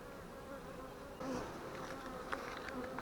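Honeybees buzz during a hive inspection of colonies that were merged, a dense close hum that swells a little louder partway through, with no speech.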